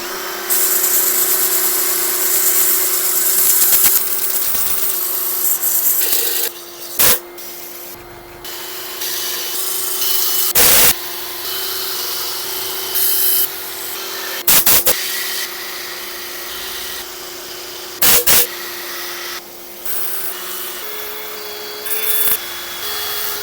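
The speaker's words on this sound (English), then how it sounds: "I'm going to set up for sanding." Sanding of a holm oak piece on a woodturning lathe, a steady loud abrasive whir and rub running throughout, with a few brief pauses and bursts as the paper shifts against the spinning wood.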